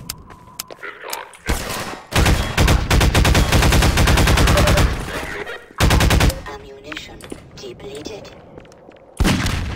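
Heavy, fast gunfire from a newly picked-up weapon in Half-Life 2 on hard mode, loud sustained automatic bursts broken by short pauses, with a voice speaking between volleys.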